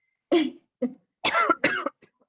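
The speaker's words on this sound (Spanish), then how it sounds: "es que me dio un poco de tos" A person coughs several times in short, close bursts, with a bit of throat clearing between them.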